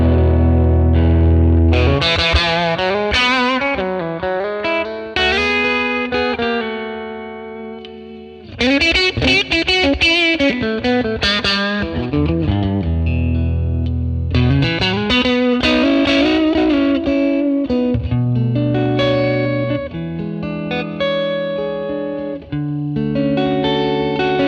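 Crunchy Telecaster guitar played through a 1957 Tweed Bassman amp model, lightly driven, with strummed chords and single-note phrases in several bursts separated by short pauses, loud and up close.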